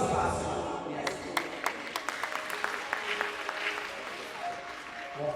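An audience at an 80th birthday celebration gives scattered applause, with uneven individual claps popping out over a crowd murmur and voices, moderately loud and thinning toward the end.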